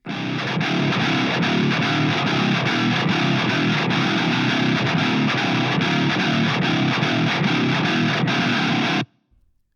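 A thick, heavily distorted Bass VI guitar chugs through a Mesa Boogie Triple Rectifier amp model in a steady, dense riff for about nine seconds, then cuts off abruptly into silence.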